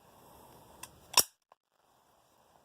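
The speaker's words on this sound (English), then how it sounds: "just pull the slide, and you're back together" A small pocket pistol's slide is worked after reassembly: a soft click, then a sharp metallic snap, followed by a faint lighter click, close and alone in a quiet room.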